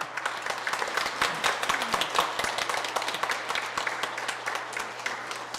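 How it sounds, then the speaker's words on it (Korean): Congregation at a Sunday Mass in a Catholic church applauding at a farewell ceremony for the priest and nuns, a dense, steady wash of many hands clapping that holds loud for several seconds. "마지막으로 큰 박수 부탁드립니다"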